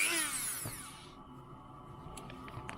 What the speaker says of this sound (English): Got a little Dremel to try and cut can't break it away from the splines.